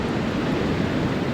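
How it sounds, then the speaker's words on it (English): Pacific Ocean waves washing onto the Gaviota State Park shoreline, a steady dense roar of surf close by with wind noise mixed in, no voices. "Standing here at the edge of the ocean"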